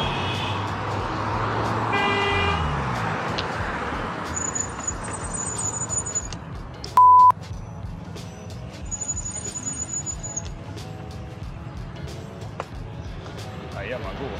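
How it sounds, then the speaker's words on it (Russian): A car horn honks briefly in city traffic at a cyclist, one short loud blast standing out from steady road noise, with someone talking over the scene before and after. "да он сигналит"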